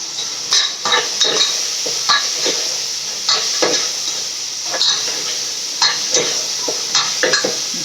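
Onions sautéing in a pan, with a continuous bright sizzle broken by repeated scraping and clattering strokes of a spoon stirring them, close and fairly loud, with no talk.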